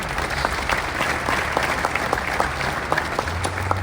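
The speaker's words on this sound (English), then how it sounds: "So give yourselves a round of applause there." Crowd applause at Ohio Stadium in Columbus during a statue unveiling ceremony for Heisman winner Archie Griffin, a steady dense patter of clapping filling the space, close and continuous throughout without talk.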